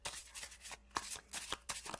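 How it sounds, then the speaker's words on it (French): Oracle cards are shuffled by hand in three quick riffling bursts separated by brief pauses, soft and close, with no voices. "5 cartes que je vais mélanger au oui et au non"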